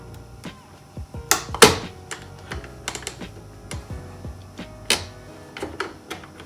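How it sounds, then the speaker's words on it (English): Sharp plastic clicks and snaps as a trim tool pries a BMW F-chassis M2 mirror casing off from the bottom, irregular close taps with a few louder cracks. "prying it from the bottom very carefully with a trim tool"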